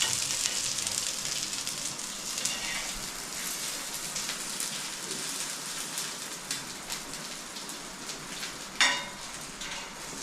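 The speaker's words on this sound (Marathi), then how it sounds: "पाऊस चालू आहे ना" Steady patter of rain falling on a surface, with a few sharper drops and a brief louder splash near the end.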